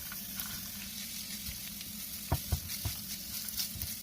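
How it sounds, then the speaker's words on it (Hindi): Chicken with finely chopped green chillies frying in a pan on high heat, a steady close sizzle with a few sharp stirring clicks and scrapes near the middle, no talking. "अब हम इसे तकरीबन 2 मिनट के लिए तेज़ आंच पर फ्राई करेंगे"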